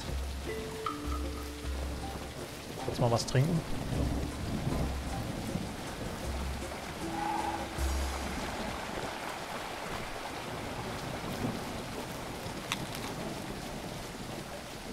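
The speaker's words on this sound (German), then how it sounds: "Regen, es regnet." Steady rain falls in the survival building game Tribe: Primitive Builder, with rolling thunder rumbles. A voice briefly speaks over the dense hiss.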